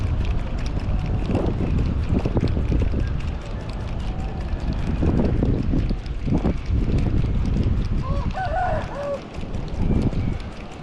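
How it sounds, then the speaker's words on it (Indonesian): Strong wind buffets the microphone at an outdoor fishing spot, gusting in heavy rumbling surges, with brief faint bird-like chirps midway and no clear speech. "Anginnya kenceng banget nih."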